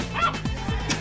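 Dog barking in the video game The Silver Case, with a couple of short yipping barks and a whimper-like tone at moderate volume over steady background ambience.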